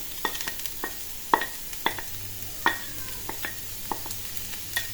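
Mushrooms hit a pan of browned food and sizzle steadily, while a utensil stirs and scrapes with repeated sharp clacks at an uneven rhythm.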